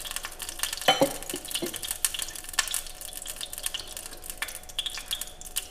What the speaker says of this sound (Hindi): घी को अच्छे से गर्म होने देंगे।